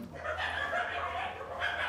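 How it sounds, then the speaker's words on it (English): Several dogs, three of them bear-hunting dogs, barking and whimpering steadily at mid-distance behind a low hum, with no gap in the noise. "It's 3 dogs."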